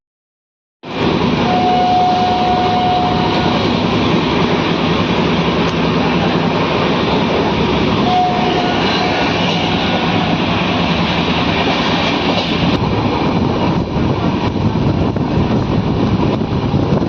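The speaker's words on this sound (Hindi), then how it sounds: "हम जो है अराइव कर रहे हैं फेफना जंक्शन पे।" The 15050 Purvanchal Express passenger train runs along the tracks with a loud, continuous rumble and rattle that starts abruptly and carries on steadily throughout, with faint tonal whines and no talk.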